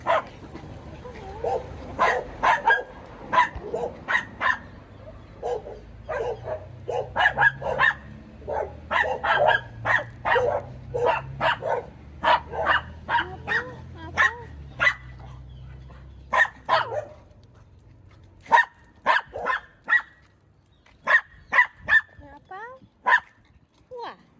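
Small dogs yap and bark repeatedly in quick, high-pitched bursts, close by, with some background murmur underneath.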